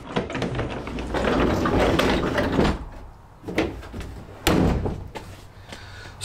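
A heavy truck bed slide-out drawer rolls out with a rumbling slide, then slams shut with a sharp thud, followed by a couple of quieter knocks.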